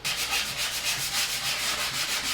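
Sandpaper rubs across a wall in steady back-and-forth strokes, a loud, close, hissing scrape with a gentle pulsing rhythm and no voices.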